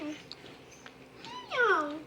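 A stray kitten on a morning visit gives a faint meow, then a louder, drawn-out cry near the end, with a soft voice speaking in the background.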